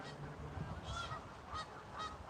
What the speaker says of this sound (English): You hear the ducks?